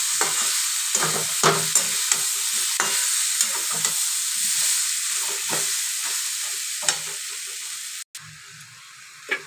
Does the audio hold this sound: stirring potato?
yes